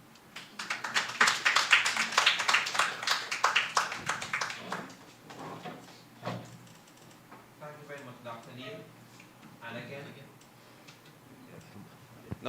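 An audience at an authors' forum claps for the presenters, a dense burst of applause that swells, then thins into scattered claps as a voice begins talking.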